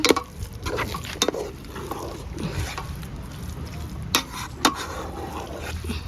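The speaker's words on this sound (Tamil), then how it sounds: "இப்போ நல்லா இதை மிக்ஸ் பண்ணி விடுறா." Sweet coconut milk rice (kiribath) being stirred in a pot, with soft scraping and sloshing strokes and occasional sharp spoon knocks against the pot, heard close with low background noise.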